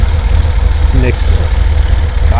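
A 1973 Datsun 240Z engine with dual Weber 32/36 DGV carburetors idles with a steady, loud, low rhythmic throb, a voice briefly speaking over it.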